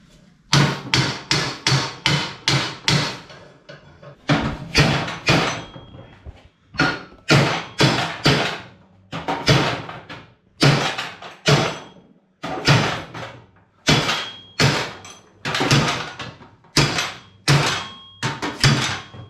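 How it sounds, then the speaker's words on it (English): Repeated heavy club hammer blows ring out on metal while knocking out a Lambretta scooter steering tube, in quick bursts of several strikes, pausing between rounds, loud and close. "I think you'll need the club hammer for that, Dom."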